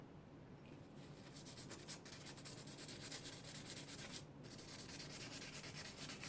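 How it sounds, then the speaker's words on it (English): Metal IKEA Effektiv cabinet handles, apparently cast, being sanded by hand, a steady scratchy rasping that runs close and continuous with brief dips in stroke rhythm. "I'll sand them all 4 down."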